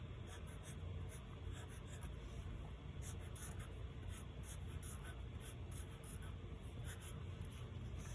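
A pencil sketches a Frankenstein drawing with a faint, continuous scratchy rubbing on paper, steady and close throughout.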